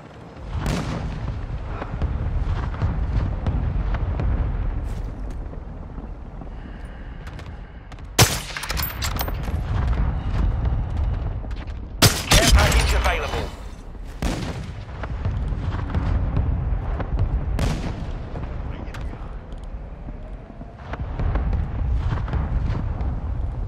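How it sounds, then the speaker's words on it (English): A mortar strike lands during a Call of Duty: Modern Warfare II match. Booming explosions and bursts of gunfire roll on and off over a constant battlefield rumble, with several sharp loud impacts standing out and no talking. "Our mortar strike is inbound."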